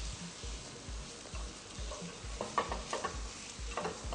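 Boiled, mashed potatoes frying with mustard seeds in olive oil in a pan, a faint soft sizzle under rhythmic stirring thumps, then a few louder scrapes and knocks of the spoon near the end, heard up close without voices.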